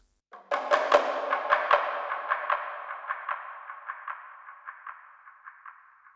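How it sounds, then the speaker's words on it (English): One struck, ringing tone repeats through a regenerating dub delay in a steady rhythmic series of echoes that keep sounding as the trail slowly thins and fades. "kind of regenerating delay, I guess is the best way to describe it"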